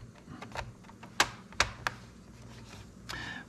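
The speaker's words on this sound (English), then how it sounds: "So you can make sure all the edges snap in nice and tight." Keycaps on a Dell Precision laptop keyboard snap into place, a few sharp plastic clicks spaced irregularly among softer taps and handling noise, close and fairly quiet.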